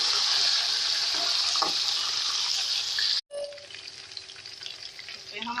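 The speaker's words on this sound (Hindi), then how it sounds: "हल्के से तल के हम इसे निकाल लेंगे अपने आलूओं को" Potatoes tinted with yellow colouring and cumin seeds fry lightly in hot oil for aloo biryani, giving a loud continuous sizzle that cuts out for a moment and then returns softer, with some light stirring.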